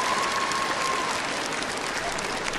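An arena crowd breaks into loud, sustained applause for David Belyavskiy, Russian national all-around champion, during the men's floor final at the Universiade, a dense, steady wall of clapping throughout.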